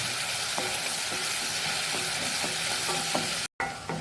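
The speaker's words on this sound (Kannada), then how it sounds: "ಟೊಮ್ಯಾಟೊ ಮತ್ತು ಬ್ಯಾಡಗೆ ಮೆಣಸಿನ ಮಿಶ್ರಣವನ್ನು ಇದಕ್ಕೆ ಹಾಕ್ಕೊಂಡು ಟೊಮ್ಯಾಟೊದ ಹಸಿ ವಾಸನೆ ಹೋಗುವವರೆಗೆ ಇದನ್ನು ಸ್ವಲ್ಪ ಹುರಿದುಕೊಳ್ಳೋಣ" A tomato and Byadagi chili mixture fries in a pan for tomato masala uppittu, giving a steady close sizzle with regular clicks and scrapes of stirring and one brief dropout near the end.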